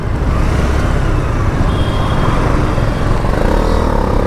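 A KTM RC motorcycle pulls away in first gear, its engine a steady, loud, broadband drone with constant wind rush and no voices.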